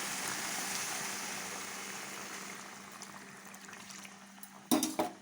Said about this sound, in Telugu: ఇందులో వాటర్ వేసేస్తున్నాం